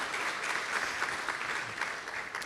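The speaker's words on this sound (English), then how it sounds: "it'd be great to give them a round of applause" A crowd at a Napa Valley grape growers' event gives a round of applause, a steady wash of clapping at moderate distance with no clear gaps.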